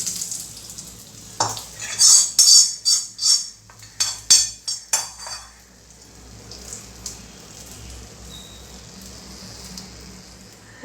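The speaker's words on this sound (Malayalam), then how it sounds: "അപ്പോൾ നമുക്ക് താളിച്ചത് പച്ചടിയിലേക്കൊന്ന് ചേർത്ത് കൊടുക്കാം" A spoon scrapes and clatters in a bowl as hot tempering is poured and stirred into papaya pachadi, a run of loud rhythmic strokes with a brief sizzle, then settling into quiet background hiss.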